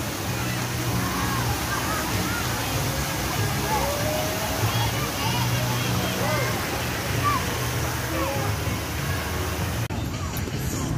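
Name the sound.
kids' splash zone water park with splashing water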